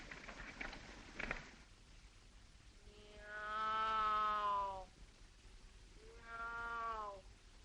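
A person imitates a cat with two drawn-out meows, separated by a short pause, over quiet background hiss.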